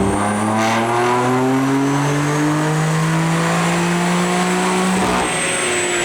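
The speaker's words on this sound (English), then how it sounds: "Here is JB4 Map 7 with E30 in the tank." A tuned BMW F82 M4 running JB4 Map 7 on E30 fuel pulls hard on a dyno, its engine note rising steadily and loudly through the revs in one continuous sweep with no talk.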